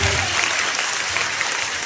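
Dense, steady applause from an audience at a church gathering in Haripal, Hooghly, West Bengal, filling the whole moment loud and close with no pause.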